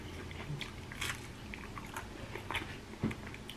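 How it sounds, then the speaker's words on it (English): Crisp crunches from biting into chicharron empanadas with chile, several close bites and chewing sounds at an irregular pace, with no talk. "The crunch, can you guys hear the crunch?"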